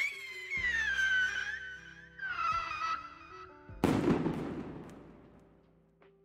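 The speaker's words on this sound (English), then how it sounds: "That's quite a lot of stuff for, like, such a small rocket." Small rockets in a fireworks video game launch with a rising whistle, then a sharp crackling burst that trails off. Faint and at a distance, with no talking.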